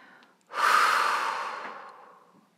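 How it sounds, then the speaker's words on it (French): One long, close breath drawn in through the nose during a guided relaxation exercise, rising quickly, then fading slowly over about two seconds in a quiet room. "Inspiration par le nez."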